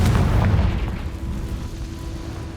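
A Confringo fire spell explodes in Hogwarts Legacy, a loud deep boom up front that rolls into a long fading rumble, with no voices.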